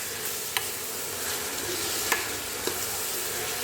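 Tomato, onion, garlic and ginger fry in a pan with a soft continuous sizzle, broken by a few sharp scrapes of a spoon stirring, close and fairly quiet.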